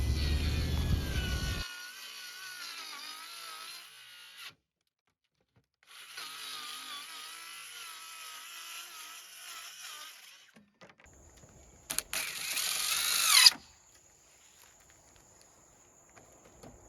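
A power saw cuts LP Smart Siding plywood soffit in two sustained passes with a high, steady whine and a brief silence between, followed by a short, louder burst near the end.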